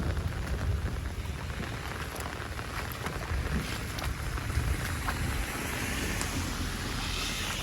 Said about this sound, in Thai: ดูว่าฝนตกครับ